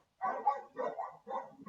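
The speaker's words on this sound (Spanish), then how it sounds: "lamento si escuchan muchos perros" Several dogs barking in three short, muffled bursts a moment apart, heard at a distance in the background, with no speech over them.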